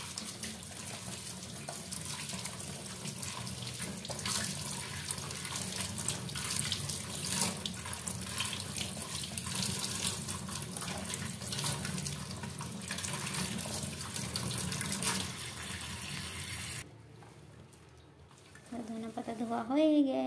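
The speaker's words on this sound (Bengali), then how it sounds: "এবার এটাকে ভালো করে ধুয়ে নেব। ধনেপাতাগুলোকে ধুয়ে নেব।" Freshly picked coriander leaves are rinsed under a steady stream of running tap water, a continuous splashing wash that holds for most of the time before stopping, followed by a few faint clinks.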